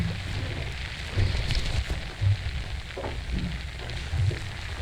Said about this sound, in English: we've got some rain coming through, which can be quite horrible with wind